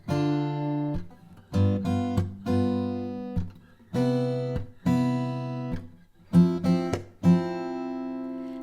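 Fingerpicked acoustic guitar plays the first four measures of a tune, a short phrase of sustained notes and chords, with brief gaps and a steady, unhurried rhythm.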